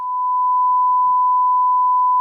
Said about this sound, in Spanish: 1 kilohercio es un pitido agudo, como este que vamos a escuchar ahora.